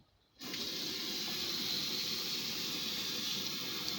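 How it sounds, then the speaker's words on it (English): Tap water runs steadily into a glass jar in a home kitchen, rinsing out leftover cream of tomato soup. A loud, even hiss and splash starts abruptly after a brief quiet moment and continues unbroken, with no talking. "I'm going to add a little bit of water to that."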